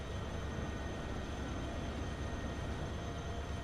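Trains racing along the track in the Transport Fever game make a steady, continuous rumble with constant loudness throughout, with no voices.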